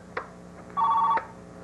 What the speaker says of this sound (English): There, Roy, it's ringing in there now.